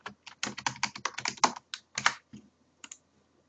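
Keys on a computer keyboard are tapped in a quick irregular burst of about twenty close, crisp clicks while a password is entered, then slow to a few last taps and fall silent.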